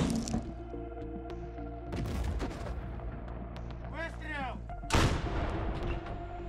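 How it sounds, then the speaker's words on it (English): Artillery fire strikes positions in a combat zone, heard as several sharp, booming blasts with a loud impact near the end, mixed with background noise and crackling. "the artillery hit the positions"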